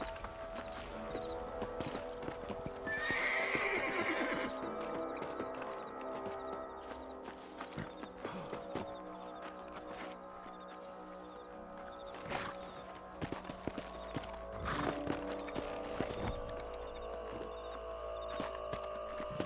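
Horses trot under riders in the Red Dead Redemption video game, with soft, steady hoofbeats running beneath a continuous bed of game ambience and music, and brief louder swells along the way.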